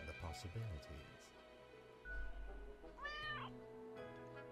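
A cartoonish cat meows in the Death and Taxes video game, a short rising-and-falling call around the three-second mark, heard over quiet game music and soft background effects.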